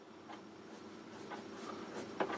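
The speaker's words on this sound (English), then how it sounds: "I'm going to sharpen my pencil." A pencil being sharpened by hand while an ink drawing is prepared, giving soft, steady scraping and rubbing strokes in a quiet room, with a slightly sharper scrape near the end.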